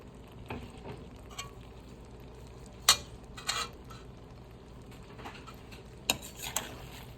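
Egg khagina cooks in a pan, giving a soft, low sizzle broken by a few sharp scrapes and taps as a utensil stirs it.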